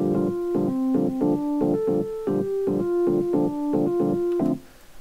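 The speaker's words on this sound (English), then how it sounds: "Fantastic Rhodes electronic piano thing." Rhodes-style electric piano from the Lounge Lizard software instrument plays a steady sequence of warm, bell-like chords with an even pulsing rhythm, close and clear, fading out at the end.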